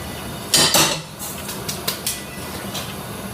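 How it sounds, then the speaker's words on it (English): Cumin seeds tip from a spoon into a hot cooking pan, producing two quick metallic clatters followed by lighter scattered ticks and faint sizzling, close up with no talking. "Then spoonful of cumin seeds, they can go in."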